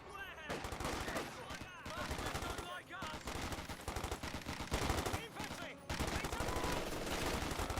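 MG42 machine gun fire in the strategy game Company of Heroes 2: sustained rapid bursts of gunfire in several stretches with short pauses, mid-distance, with a commentator talking over it.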